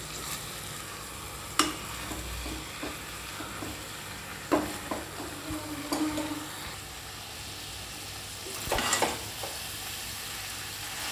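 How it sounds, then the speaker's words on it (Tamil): A spoon stirs chicken curry masala with peas in a sizzling pan, with soft scrapes and a few sharp clinks over a continuous gentle frying hiss. "நல்லா அந்த மசாலாலாம் கறியில் சேர்கிற மாதிரி நல்லா கிளறி விடணும்."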